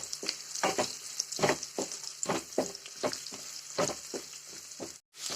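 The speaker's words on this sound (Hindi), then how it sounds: "काजू को भी अच्छे से सॉटे कर लेंगे" Sliced onions and a few cashews sauté in a pan for paneer butter masala, a steady close sizzle punctuated by repeated scraping stirs at an irregular rhythm, with a brief drop to near silence at the end.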